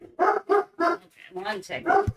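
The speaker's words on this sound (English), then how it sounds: "She's not gonna stop barking until I put the livestock dogs up again." A dog barks in a few sharp bursts at close range, mixed with a woman's brief spoken words.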